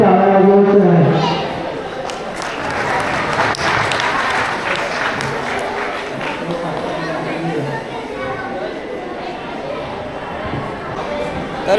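Guests at a Buddhist wedding applauding the couple, with a loud burst at first that settles into sustained clapping mixed with crowd chatter and voices.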